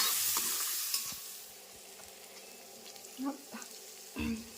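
Browned onion frying in a pan for pasta, a fading sizzle with a few stirring knocks and scrapes, moderately close, with a faint voice in the background.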